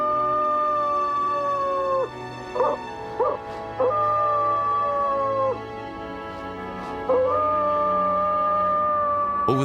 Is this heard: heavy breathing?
no